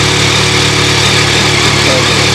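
A new 2025 Yamaha R9 motorcycle idles after its first start, a loud, steady, close engine drone with a constant low throb and no revving.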